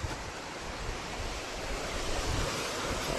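A mountain waterfall near Trimbakeshwar roars continuously, a broad steady wash of rushing water with wind buffeting the microphone.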